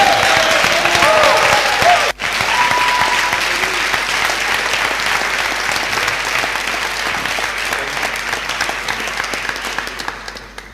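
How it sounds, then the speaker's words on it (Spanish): A church congregation bursts into loud, sustained applause that fills the space, briefly cutting out once before carrying on steadily and thinning toward the end. "Aplauda al Dios de Israel."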